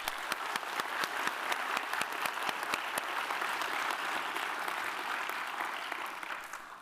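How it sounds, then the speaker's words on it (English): Audience applause after a contest showdown at a Manchester research event, with dense clapping close up that is steady and loud throughout and eases slightly toward the end. "let's give another round of applause for our contestants and Professor Janala"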